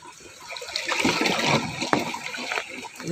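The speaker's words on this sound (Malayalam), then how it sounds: "ചെറിയ ഒഴുക്കൊന്നുമല്ല നല്ല അടി ഒഴുക്കുള്ള" Strong flood current rushing under a bridge in Kerala, the water pressing against the span in a steady, loud turbulent roar with splashing bursts throughout.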